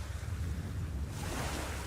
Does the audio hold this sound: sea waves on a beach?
yes